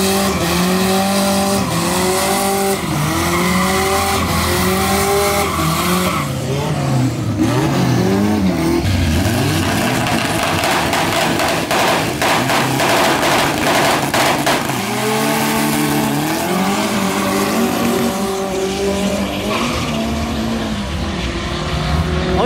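Modified street cars at a drag racing event, engines revving hard through rising and falling gear sweeps with tire squeal, loud and continuous throughout.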